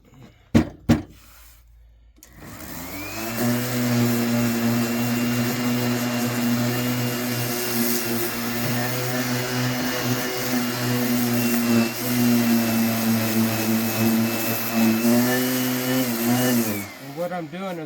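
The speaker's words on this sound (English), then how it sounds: "the next step you're going to do is the fine sanding" Power sander doing fine sanding on a handmade wooden American flag craft, a steady droning whir that starts after a couple of knocks, runs continuously at close range and then cuts off near the end.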